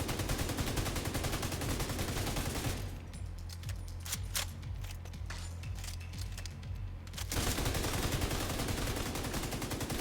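Automatic weapon fire in The Division 2, a rapid continuous stream of loud shots in an enclosed space that pauses briefly in the middle with a few scattered impacts, then resumes at full intensity, with no voices.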